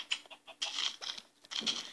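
Minecraft chickens clucking in short, scattered bursts, several soft clucks and patters spaced irregularly, close and fairly quiet with no talk.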